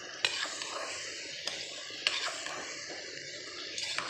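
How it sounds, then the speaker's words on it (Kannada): A tomato and spice mixture for paneer pulao fries in a pan, with a soft continuous sizzle and a few sharp clinks of a spoon stirring against the vessel. "ಸೊ ಇದನ್ನೆಲ್ಲ ನೀಟಾಗಿ ಸೇರಿಸಿ ನಾವು ಈ ಥರ ಫ್ರೈ ಮಾಡ್ಕೊಳ್ಬೇಕು"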